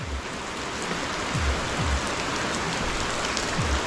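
Light rain falling steadily on a farm during the harvest, a soft continuous hiss of drops close by with no voices.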